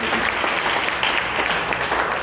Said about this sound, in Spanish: ¿Alguien tiene un aplauso al Señor por eso?